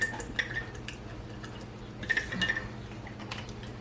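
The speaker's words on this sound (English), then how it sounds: "So I'm gonna put a little bit of kombucha vinegar." Kombucha vinegar trickles into a bowl of homemade fermented mayonnaise, giving soft drips and a short liquid splash against faint kitchen background noise.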